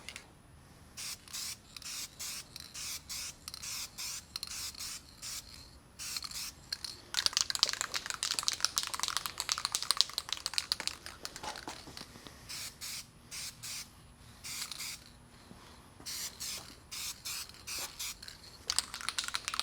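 A rattle can sprays clear coat onto a scuffed car panel in repeated short hissing bursts, close and steady, with pauses between passes.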